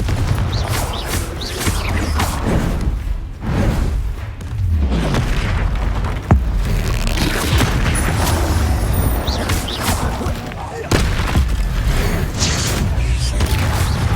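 Confringo spell blasts in Hogwarts Legacy on PS4: heavy, booming explosions repeat over a constant wall of rumbling combat noise, loud and dense throughout.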